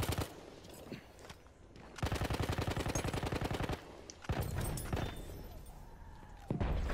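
Machine gun fire in Battlefield 1, a sustained rapid burst of evenly spaced shots in the middle, bracketed by scattered single shots and a later burst, moderately loud.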